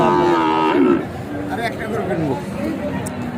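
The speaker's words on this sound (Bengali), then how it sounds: "এই গরুগুলি দেখানোর চেষ্টা করি" Cattle low and moo at the busy Notunhat rural livestock market in Joypurhat, Bangladesh, where small local bullocks are being sold, with a deep lowing call standing out over steady crowd chatter and people talking nearby.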